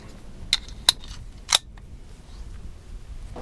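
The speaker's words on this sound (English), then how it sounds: "just let it turn and the slide will go forward and it'll lock right here into the front of the slide" Colt 1903 hammerless pocket pistol slide running forward and locking: three sharp, close metallic clicks within about a second, then quiet room tone.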